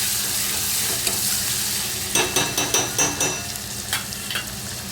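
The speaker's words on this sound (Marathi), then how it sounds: "हे हिरवी मिरची, लसूण, जिरं आणि कोथिंबीरचं वाटण तयार केलेलं ते घालायचं आणि हे सगळं व्यवस्थित आपल्याला परतून घ्यायचं आहे" A paste of green chilli, garlic, cumin and coriander sautés in a pan for Maharashtrian kadhi pakoda, a steady loud sizzle broken midway by a quick run of rhythmic scraping stirs, then a few more spoon knocks.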